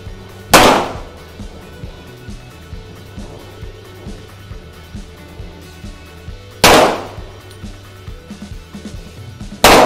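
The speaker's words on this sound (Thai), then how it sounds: "ร่วมทดสอบตัวโค้ด38ซุปเปอร์นะครับกระบอกนี้ระยะ10เมตรนะครับพร้อมแล้วเริ่มยิง" Two loud, sharp gunshots from a Colt .38 Super pistol fired at a 10-meter shooting range, spaced about six seconds apart, with a third report just beginning at the end over faint background noise.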